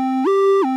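A pure sine-wave synth tone in a hyperpop style that glides smoothly up to a higher note with portamento, holds briefly, then slides back down, giving a short wiggly, slippery sound.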